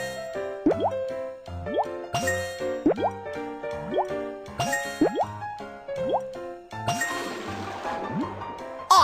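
Cartoonish water plops and drips with rising bloop tones from a Baby Panda fire truck game as water fills the connected pipes, repeating in quick bursts roughly every second and ending in a brighter splashing gush.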